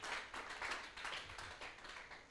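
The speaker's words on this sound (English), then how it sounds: "a big round of applause to all our panelists" Audience clapping for a panel at a live-streamed event, a moderate round of applause with individual claps audible, continuing throughout at a fairly even level.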